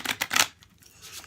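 Tarot cards shuffled by hand, a few quick papery riffling bursts close up, followed by a softer brief flutter.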